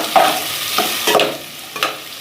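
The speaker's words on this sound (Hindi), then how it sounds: "इसे 1 मिनट के लिए फ्राई करेंगे अच्छी तरह" Chicken Manchurian ingredients fry in a pan over high heat, a close, loud sizzle broken by several bursts of stirring and scraping, with no talk.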